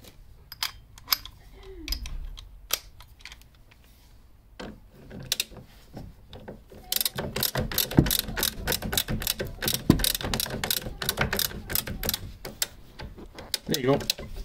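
A ratchet with an extension bar turns a suspension bolt on a V12 supercar, giving sparse clicks at first and then a long run of rapid, loud ratcheting clicks close up, with a voice speaking intermittently.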